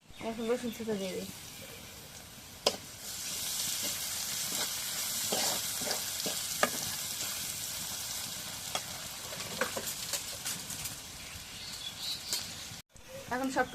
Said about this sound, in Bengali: এখন রসুন ছেঁচা দিয়ে দিই,